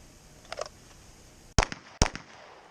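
Gunfire during an active shooter training drill: faint distant pops at first, then two loud, sharp close shots about half a second apart.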